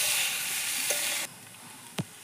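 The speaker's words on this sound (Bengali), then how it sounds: "মশলানো কষলার মধ্যে আমি আলু আর কাঁচকলাটা দিয়ে দিলাম।" Spice paste sizzling with potato and green banana pieces in a pan over a clay wood-fired stove, a loud steady hiss that drops suddenly midway, then a single soft stir or clink.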